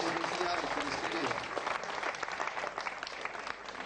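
Audience applause at a Verdi bicentenary tribute evening, honoring librettist Francesco Maria Piave; dense clapping that starts loud and gradually thins and softens, with some voices mixed in.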